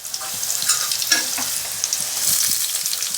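Ginger, garlic paste, chillies, cumin and dried coriander sizzle in hot ghee in a kadhai, a steady close frying hiss with occasional stirring scrapes and pops, no voices.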